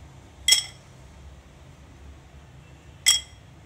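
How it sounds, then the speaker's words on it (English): Ice cubes drop into a glass of aam panna, two sharp bright clinks about two and a half seconds apart against near silence. "and then we will top it up with ice cubes."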